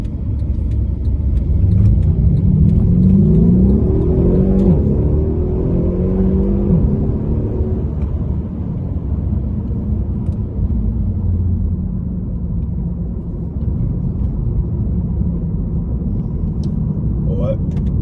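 A Mercedes CLS 63 AMG accelerates in Sport Plus mode: a deep engine note climbs in pitch over the first few seconds, then settles into a steady, loud rumbling drone heard from inside the car.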